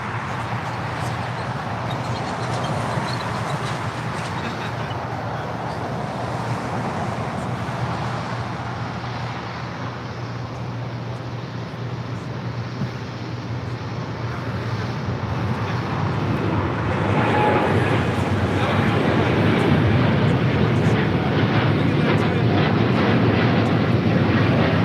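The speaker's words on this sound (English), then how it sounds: "This is United Airlines 2614 taking off to Newark on a 787-10 Dreamliner." United Airlines Boeing 787-10 Dreamliner taking off from LAX runway 25 right, a sustained jet engine roar that builds in strength toward the end, heard alone.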